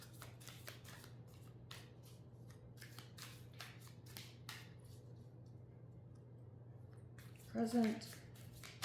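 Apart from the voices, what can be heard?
shuffling tarot cards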